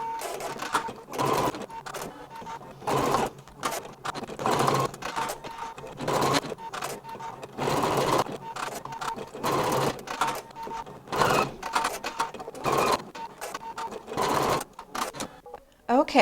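A sewing machine stitches placement lines for leaves on a sparkle tote bag. It runs in repeated short bursts with brief pauses between them, and the rapid mechanical chatter is fairly close.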